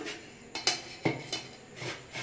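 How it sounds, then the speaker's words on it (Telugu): Coconut is grated by hand for jaggery coconut laddus, giving a few separate rasping scrapes against a metal grater with light clinks, close and unaccompanied by voices. "కొబ్బరిని అయితే ఇలా తురిమేసుకోండి"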